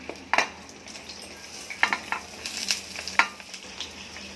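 Potatoes and drumstick pods sizzle in hot oil in a pan as a utensil stirs them. Scattered metallic scrapes and taps cut through a steady, moderate frying hiss, with no one speaking.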